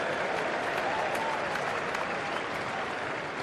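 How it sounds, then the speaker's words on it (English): Crowd at an England versus Australia cricket match in 2019, applauding and cheering as one broad, sustained wash of clapping for a few seconds, slowly easing off toward the end. "I thought the roar around the crowd might have been a little bit bigger than that"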